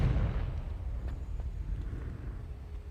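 A Confringo fire-blast spell goes off in Hogwarts Legacy, opening with a heavy booming burst that rolls into a low rumble and fades out over a couple of seconds.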